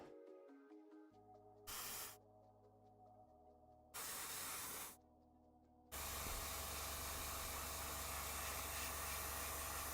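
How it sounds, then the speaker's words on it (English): An airbrush sprays paint thinned until it is nearly like water, giving two short bursts of hiss and then a long, loud, continuous spray over a low motor hum while miniatures are painted. "So like using a spray gun? I mean, that's what I'm doing right now."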